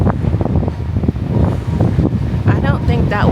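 Strong gusting wind at a beach, loud buffeting rumble across the microphone with a hint of surf behind it, while someone talks over it.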